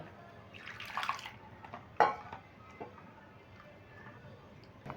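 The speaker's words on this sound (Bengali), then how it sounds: "এবার আমি জল দিয়ে ভালো করে পরিষ্কার করে দুবার করে ধুয়ে নেব" Grated potatoes being rinsed by hand in a bowl of water in a home kitchen, with soft sloshing and splashing, a brief sharper splash near the middle, and faint clinks against the bowl.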